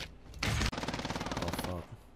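Automatic gunfire in the Call of Duty Warzone video game, a loud, dense run of rapid shots lasting about two seconds with a brief break partway through.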